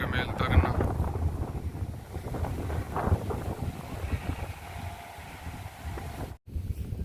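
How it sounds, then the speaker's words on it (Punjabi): Strong wind blows across an open potato field, buffeting the microphone with steady rumbling gusts, while someone talks over it. "ਹਵਾ ਦੀ ਰਫ਼ਤਾਰ ਬਹੁਤ ਤੇਜ਼ ਆ ਦੇਖੋ"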